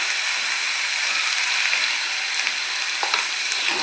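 Turmeric powder goes into a hot pan of oil for vegetable upma, setting off a loud, continuous close sizzle with a few light stirring scrapes.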